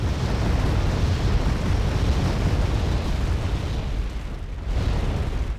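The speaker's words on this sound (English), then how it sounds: "He has a small unit in there that is about to get rocket artilleryed." Rocket artillery strikes in the Wargame Red Dragon strategy game land as a steady, dense rumble of overlapping blasts, loud and continuous with no clear gaps.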